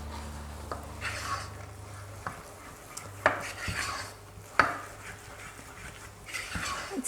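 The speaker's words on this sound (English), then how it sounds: "now you take your flour and you're going to put it in and start to quickly mix" Quick whisking and scraping as flour is mixed into melted butter in a pan, with sharp utensil clinks against the pan and a faint background hum.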